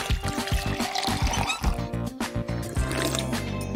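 Water is poured into a cup to rinse after brushing teeth, a continuous close splashing fill heard over background music.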